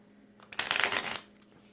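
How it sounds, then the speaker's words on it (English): A deck of cards riffled once, a quick fluttering rush that swells and fades within about a second, close by and alone. "But I do shuffle my decks very thoroughly"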